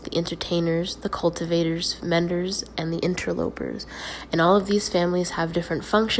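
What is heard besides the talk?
No everyday noise stands out behind the speech.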